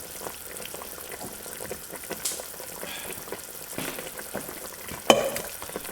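Spring onions and lettuce tumble into a pot of simmering lamb fricassee in lemon sauce, with steady bubbling and sizzling, stirring scrapes and one sharp clank near the end.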